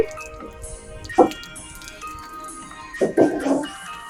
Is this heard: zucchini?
no